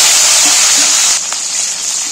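Tomatoes fry in hot oil with whole cloves, cardamom and cinnamon, giving a loud, steady close sizzle and hiss that holds throughout, with faint stirring toward the end.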